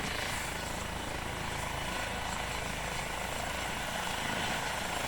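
Hampshire and Isle of Wight air ambulance helicopter running close by, a loud continuous rotor and turbine roar with strong downdraft noise, steady for the whole stretch without talk.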